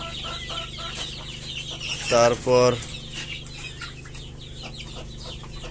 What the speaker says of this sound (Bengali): এটা মোরগ হবে।